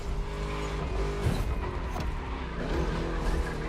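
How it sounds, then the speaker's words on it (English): A V8 muscle car engine revving in the racing video game Forza Motorsport, a steady, dense low growl with rising and falling revs and a brief sharper burst, close and continuous throughout. "Just listen to that V8 like a chunky, down-tuned guitar riff"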